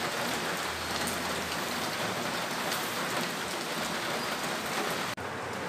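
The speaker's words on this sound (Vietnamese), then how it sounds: "Sáng nay ngoài đường trời mưa" Morning drizzle falling outside in the street, a dense, steady patter of rain on surfaces that holds evenly throughout before a brief dropout near the end.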